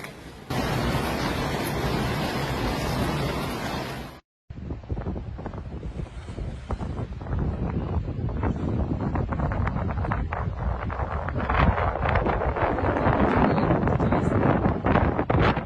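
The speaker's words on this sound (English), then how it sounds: "violent wind gusts suddenly surged ashore" Violent wind gusts from a waterspout coming ashore at the Puerto de Mazarrón waterfront in Spain roar loudly and continuously, buffeting the microphone. The sound cuts out briefly early on, then the gusts resume.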